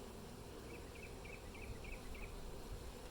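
Honeybees buzz faintly around a hive in Pilot Point, Texas, a soft thin drone with a few short wing-buzz passes repeating in a quick rhythm over low background rumble.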